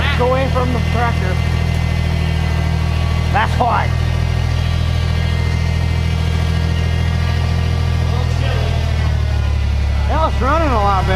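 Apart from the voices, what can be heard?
tractor engine running after carburetor work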